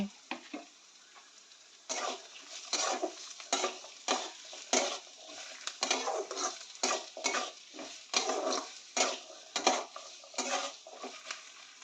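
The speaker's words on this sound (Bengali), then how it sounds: "কাঁচা লঙ্কাটাও কিছুক্ষণ ভেজে নিয়ে এবার আলুটা দিয়ে দেব আলুটাকে ভালো করে এখন ভেজে নেব" Potatoes frying with green chillies in a pan for jhal suji, rhythmic spatula stirring and scraping over a light sizzle, repeated strokes close by.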